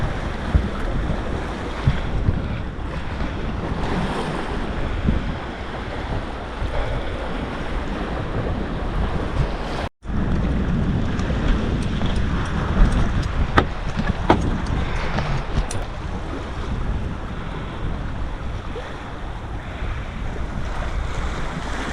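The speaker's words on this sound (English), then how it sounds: "Beautiful wind." Steady wind and rushing water while sailing a sailboat on the North Bahama Bank, a continuous broad wash of waves against the hull with heavy wind buffeting on the microphone throughout and a brief dropout midway.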